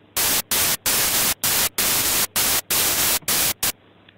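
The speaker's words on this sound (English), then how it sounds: "white noise is just, you know, it has no note on it" White noise from a synth in FL Studio plays as loud hissy bursts, about ten choppy start-stop pulses in quick rhythm, then cuts to a faint hum.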